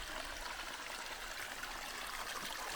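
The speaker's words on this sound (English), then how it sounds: "Nice little stream." A small mountain stream in the Olympic National Park backcountry, a continuous close trickling and bubbling rush of water, steady and soft, with no voices.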